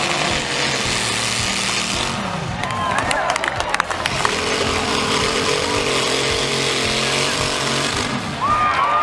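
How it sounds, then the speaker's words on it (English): A giant V8-powered chainsaw roars through logs, a loud sustained buzzing engine with rising revs and cutting bursts, crowd noise and a voice underneath. "If you think all chainsaws are the same, watch this video and be amazed by these monsters."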